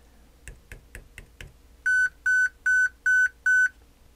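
An Arduino-driven speaker answers a series of taps: five soft knocks are followed by five loud, evenly spaced electronic beeps, each held briefly, clear and close.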